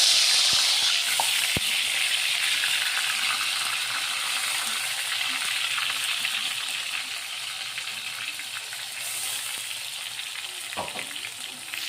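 Onion and tomato paste sizzling and frying in a hot pan, a steady bright crackle that fades slightly over time, with a couple of faint clinks of a utensil.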